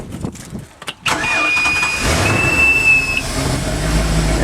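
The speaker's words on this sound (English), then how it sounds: "let's start her up" A Rinker boat engine cranks a few times, catches and settles into a loud, steady idle with a thin whine riding on top.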